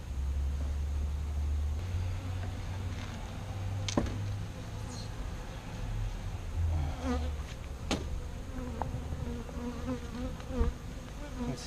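Angry bees swarm around an open hive during a beekeeping inspection, a dense, steady buzz that fills the whole clip, with individual bees zipping close past now and then.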